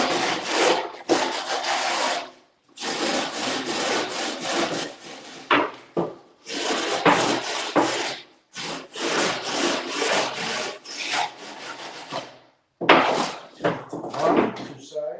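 A rasp files the edges of drywall sheets in long, loud, scraping strokes with short pauses between passes, close up and carrying on for many seconds.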